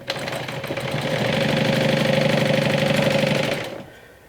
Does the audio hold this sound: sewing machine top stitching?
yes